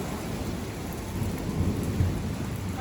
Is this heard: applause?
no